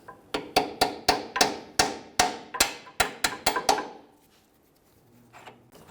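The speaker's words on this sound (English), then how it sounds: "Now we go ahead and tap this bolt out" A hammer taps out a control arm bolt on a 2007-2014 Cadillac Escalade during front lower control arm replacement, about a dozen sharp metallic strikes in a steady, quickening rhythm, close and loud, then a quiet pause with faint shop noise.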